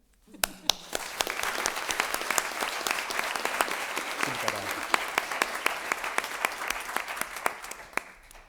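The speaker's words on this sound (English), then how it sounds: "I'm quite sure that you get an applause from these people" An audience at a university student prize ceremony applauds a prize winner, sustained, dense clapping from many hands with sharper individual claps standing out, and a voice briefly heard beneath.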